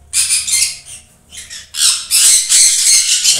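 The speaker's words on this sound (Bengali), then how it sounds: "এটা এক পেয়ার আমার ব্রিডিং পাইনঅ্যাপেল কুনো, এটা ডবল রেড ফ্যাক্টর বলা যেতে পারে।" A breeding pair of double red factor pineapple conures lets out several loud, harsh squawks close by, in quick bursts with a brief pause between them.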